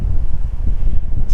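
Strong wind buffets a DJI Mini drone flying home at high speed in gusty conditions, a steady low roaring rumble that pulses loudly throughout with no voices.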